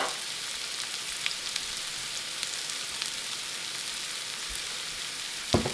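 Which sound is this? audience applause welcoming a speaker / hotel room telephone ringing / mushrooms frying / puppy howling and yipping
mushrooms frying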